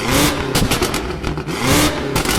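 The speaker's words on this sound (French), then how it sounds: "Les sorties d'échappement en carbone signées Akrapovic avec un son juste sublime" A sports car fitted with carbon Akrapovic exhaust tips revs hard in loud repeated bursts, the engine note rising and dropping several times in quick succession, close and with no voices over it.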